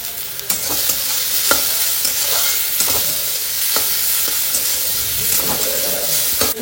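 Carrot and coriander leaves stir-fry with onions in a pan, a steady close sizzle broken by scraping strokes of the spatula every second or so, with no voices.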